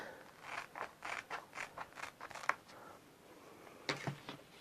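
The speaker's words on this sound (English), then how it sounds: "I'm just going to cut it." Scissors snip through a Roll with It transfer sheet in a quick series of about a dozen close, crisp cuts, followed by a short pause and a few more snips.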